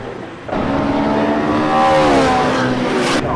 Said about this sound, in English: Jacques following him there in the 21 Ferrari.